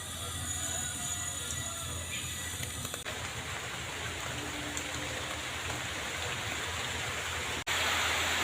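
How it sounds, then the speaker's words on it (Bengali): Monsoon rain falls outdoors as a steady, even broadband hiss that continues throughout, then swells louder in the last second. "দেখুন রেসিপিটা করতে করতে বৃষ্টি এসে গেছে"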